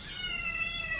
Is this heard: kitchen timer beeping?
no